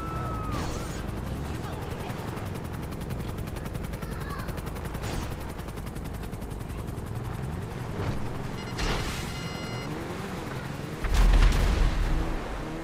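Helicopter in GTA Online video game, its rotor a steady low drone under scattered gunfire bursts, cracks and impacts, with a louder heavy thump near the end.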